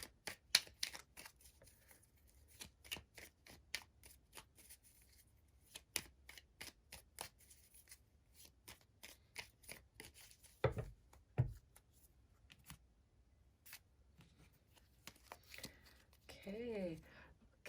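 Moon magic tarot cards shuffled close up in long runs of quick, crisp riffling clicks, quiet overall, with a couple of louder thumps partway through and a brief voice near the end.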